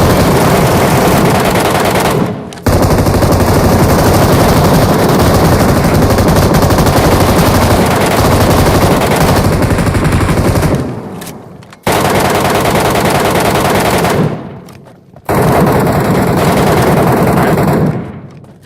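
Loud, sustained automatic gunfire in the Metro Royale video game, long continuous bursts broken by brief pauses, dense and close with no talking over it.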